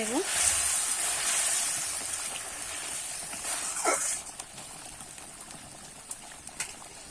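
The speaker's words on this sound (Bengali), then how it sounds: "ঝোলটা কিন্তু আমার ভালো করে ফুটে গেছে" Bhetki fish curry gravy bubbles and sizzles steadily in a pan, a soft continuous hiss with a few small pops throughout.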